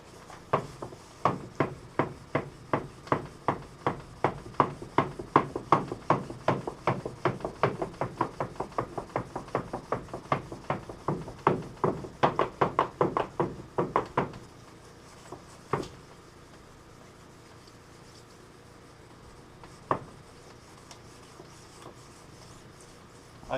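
A sander rattles and clanks steadily while working over latex paint, with a fast train of sharp knocking hits for about fourteen seconds, then stopping, followed by a few isolated knocks.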